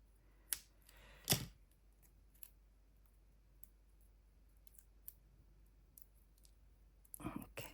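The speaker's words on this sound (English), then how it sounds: "I just need to snip that off" Scissors give two or three quick, crisp snips into purple card during card-making work, set apart by quiet gaps, with a further pair of snips near the end.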